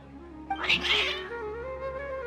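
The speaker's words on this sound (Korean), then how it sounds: "고양이들이 갑자기 널 적대시하는 것 같은데 어떻게 된 거야?" Two hostile cats hiss and yowl in the video game Genshin Impact, a short harsh burst of snarling and caterwauling that rises sharply and trails off into a droning tone.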